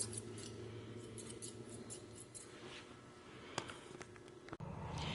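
Grooming scissors make soft, crisp snips now and then as they trim a Pomeranian's fur. A faint background hum runs under the cuts, and no one speaks.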